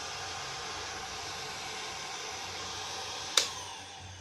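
A Bosch GHG 180 heat gun runs at low speed with a soft, steady airy hiss, close and continuous, broken near the end by a single sharp click followed by a brief fading ring.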